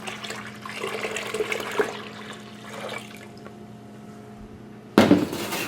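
Water poured into a mango water ice mix gives a soft splashing trickle with a steady background hum, followed by a louder burst of pouring near the end.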